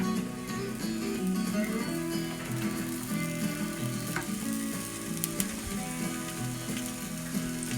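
Parsnips fry in a modest amount of oil in a pan, giving a steady, close sizzle with soft crackling and a few light clinks, continuous throughout without any talking.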